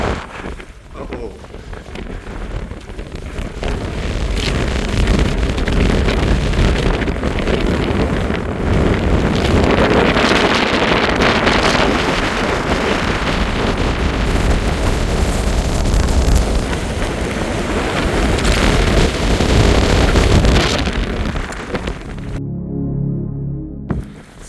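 Strong wind roars and buffets the microphone on the exposed summit of Beinn Chuirn, a Scottish Corbett, on a wild, snowy, hail-swept day. The loud rush is continuous for the whole stretch, then cuts off abruptly near the end.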